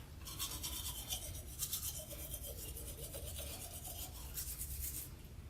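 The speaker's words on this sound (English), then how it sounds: "I'll use activated charcoal, and this is just a 360 toothbrush" Continuous scratchy brushing of teeth with a 360 toothbrush and activated charcoal, close and quiet, with rhythmic bristly strokes that swell and ease over several seconds.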